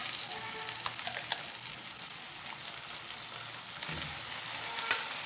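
Masala-marinated chicken fries in oil in a pan with a continuous crackling sizzle, broken now and then by sharper pops and stirring scrapes, close and alone.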